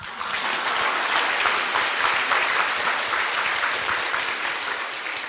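An audience at a traditional-culture study camp lecture bursts into sustained applause, a thick, even wash of many hands clapping from start to finish, loud and close, with no talk over it.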